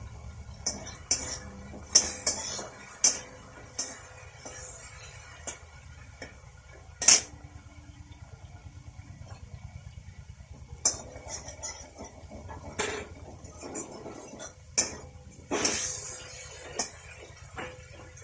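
Prawns being stirred in a frying pan with a metal utensil: intermittent scraping clicks and clinks over a faint, steady low hum, with no talking.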